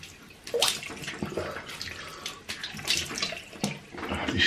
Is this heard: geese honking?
no